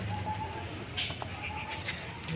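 Pigeons coo in a home pigeon loft, with soft, low murmuring calls repeating over a faint background of rustling and small knocks.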